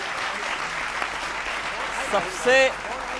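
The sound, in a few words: audience applause after a satirical poem line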